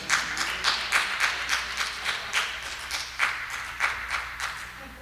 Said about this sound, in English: I got 7 claps.